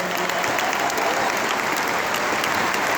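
Dense, loud applause fills a hall at a university retirement ceremony for basketball figure Tyronn Lue, a continuous wash of many clapping hands with no break across the whole stretch.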